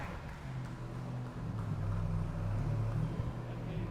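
A Ram TRX truck's engine revs at a vehicle giveaway ceremony, a loud steady low rumble that swells over the four seconds with rising harmonic tones, no talk over it.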